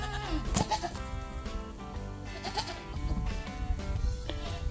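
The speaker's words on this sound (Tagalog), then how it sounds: "Goat, goat, goat, goat. Here's your zucchini." Goats on a home farm bleat repeatedly at close range, a few loud calls rising over a steady rustling and shuffling background while being fed garden zucchini.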